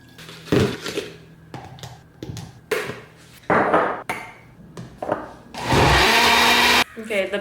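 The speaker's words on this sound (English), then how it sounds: "the best blender truly ever is the Beast blender" A Beast blender whirs through a short loud burst while an avocado smoothie is made, surrounded by clattering kitchen knocks, clinks and handling noises, with close cutting and tapping sounds before and after the blending.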